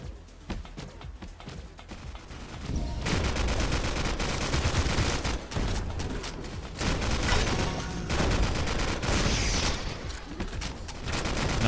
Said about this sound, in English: Not sure where my rockets are going.